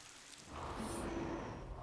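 A haunted hail storm in the game Ghost Master pelts down as a dense, steady hiss of falling ice and rain with a low rumble underneath, swelling after the first half second and staying constant with no voices.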